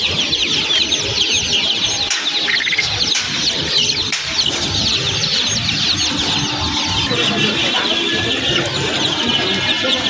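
Dense chorus of poultry and pet birds at a busy Dhaka poultry market, with continuous overlapping calls, clucks and chirps and the flutter of wings, loud and steady throughout.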